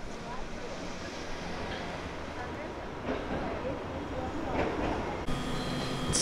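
A Hiroshima Electric Railway streetcar rolls toward the next stop, a steady low rumble of wheels and motor with faint rattles and a few clunks, fairly quiet and continuous throughout.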